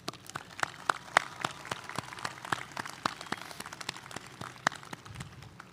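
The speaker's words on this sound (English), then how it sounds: "So please give yourselves a big round of applause." Graduating students at a 2021 high school graduation ceremony give themselves a round of applause, a sparse, fairly faint patter of separate claps rather than dense clapping, carrying on steadily throughout.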